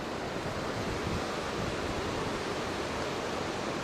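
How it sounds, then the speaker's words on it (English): Steady, dense rush of flowing water, loud and unbroken, a mountain creek churning underneath boulders nearby in the Sierra Nevada. "Here's the creek, but it's underneath all of the boulders"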